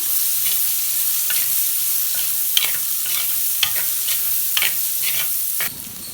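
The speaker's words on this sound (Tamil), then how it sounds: "அதை அந்த எண்ணெயில் போட்டு வதக்கிடலாம்" Finely chopped shallots frying in hot oil, a constant bright sizzle with intermittent scraping stirs of a spoon in the pan, close and loud, with no talking.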